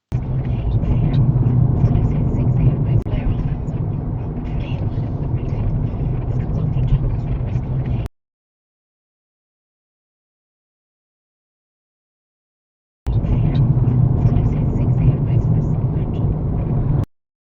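A 1929 Lagonda Speed model vintage car driving, a steady low engine rumble and road noise heard from inside, running continuously for about eight seconds, cutting out completely, then resuming at the same level for the last few seconds.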